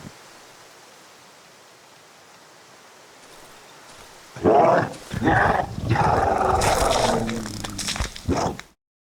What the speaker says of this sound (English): then you begin to hear growling coming from it.